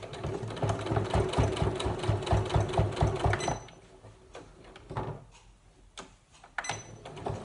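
A sewing machine stitching a fabric notebook cover runs in a fast, steady rhythmic chatter for a few seconds, then slows and stops with quieter clicks and fabric handling, close by with no talk.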